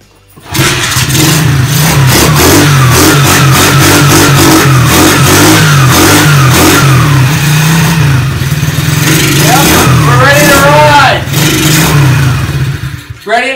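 TaoTao DB14 110 dirt bike engine starts and idles loudly up close, then revs up and settles, a steady buzzing single-cylinder drone through the clip with a brief louder rev near the end.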